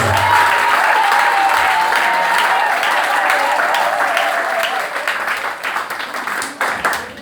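A church congregation applauds loudly during a French-language sermon, a dense, sustained roar of clapping that begins to thin and break up toward the end.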